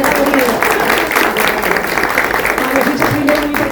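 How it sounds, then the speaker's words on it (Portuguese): An audience at a talk applauds, with dense, sustained clapping that stays loud and even across the whole stretch, mixed with some background voices. "Vamos para aplausos de novo"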